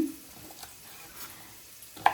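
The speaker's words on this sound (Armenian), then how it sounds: "մի հատ ես խառնեցի սոխարածը, որպեսզի չվարվի" Quiet stirring of chopped onion frying in a pan, a faint continuous sizzle with soft scrapes and a sharper clink near the end.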